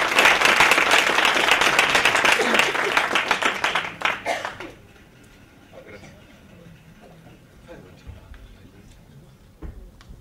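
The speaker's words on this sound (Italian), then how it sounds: "Grazie, un applauso, perché sono stati qui." A room's audience at a digital project presentation claps loudly and densely, the applause thinning into scattered individual claps and fading out midway, followed by near quiet with faint room noise.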